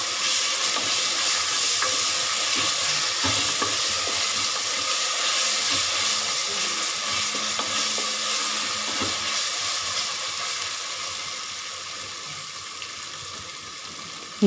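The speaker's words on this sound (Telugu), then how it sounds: "పచ్చివాసన పోయేలాగా ఈ ఆయిల్లో ఈ పేస్ట్ని కూడా మనం ఫ్రై చేసుకోవాలి." Freshly ground paste frying in hot oil in a pan for pressure cooker mutton biryani, a continuous bright sizzle and hiss with occasional stirring scrapes, close and steady, easing slightly over time.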